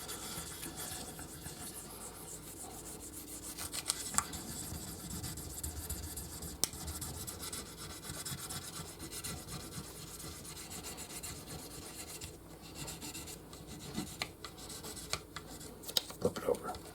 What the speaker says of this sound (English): we're just using this sandpaper here that's not,